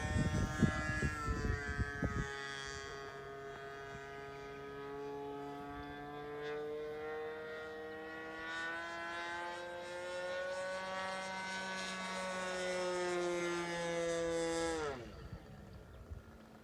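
A model airplane engine drones steadily just above idle, a smooth buzzing tone that rises slightly in pitch before cutting down near the end, after some brief handling noise at the start.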